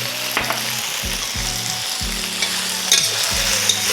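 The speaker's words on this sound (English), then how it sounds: "Keep on stir frying it." Chicken chow mein with noodles and soy sauce stir frying in a hot pan, with constant loud sizzling broken by repeated scraping and tossing strokes of the utensil.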